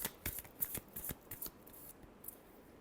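Tarot cards are shuffled by hand in a quick run of crisp riffling flutters and soft slaps, close and fairly clear, with no talking.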